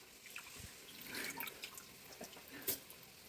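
Water poured into a pot of partly cooked chicken and rice for pulao, with soft trickles and a few splashing drips, quiet and close, without speech.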